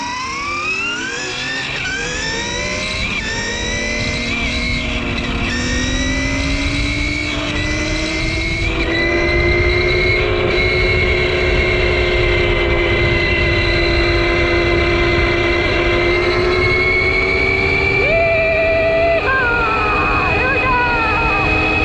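A homemade six-speed electric dirt bike being ridden, its motor whine climbing steadily in pitch with rising speed and stepping through shifts, loud and continuous with wind rush underneath.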